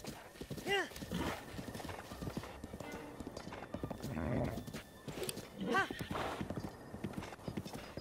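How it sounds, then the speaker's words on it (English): Horse hooves galloping in The Legend of Zelda: Breath of the Wild, a steady clip-clop rhythm with a couple of whinnies and game effects over a continuous outdoor ambience, no talking. "I'm just excited we got a horse."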